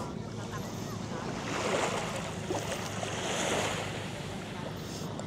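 Waves wash onto a white-sand beach in Pangasinan, a steady rushing surf with gusts of wind buffeting the microphone and no clear break between swells.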